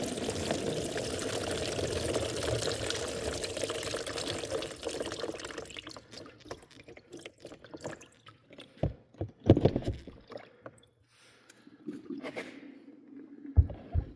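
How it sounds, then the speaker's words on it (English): Water sloshes and gurgles inside a car battery being shaken after a flush with distilled water, a dense continuous slosh that breaks into scattered knocks, splashes and trickles. "take the battery, try and give it a little shake, a little maneuver"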